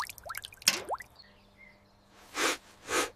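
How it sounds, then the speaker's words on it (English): Water poured out of a window lands in two broad splashing bursts near the end, after a few small drips and plops at the start. "I pour water out the window."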